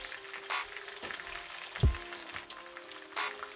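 Pieces of scotch bonnet pepper frying in hot oil while cooking Jamaican escovitch fish, giving a steady sizzle with a few louder pops and a thump near the middle, close by and without talk.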